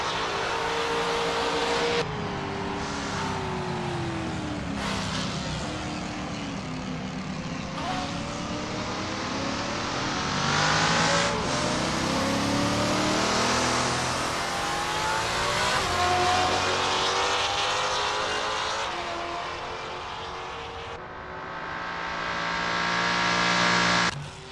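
Trans Am race cars lap the Riverside Long circuit in Assetto Corsa, engines droning and rising through gears continuously, with shifting pitch sweeps as cars accelerate and pass, steady and fairly loud, with commentators talking over it.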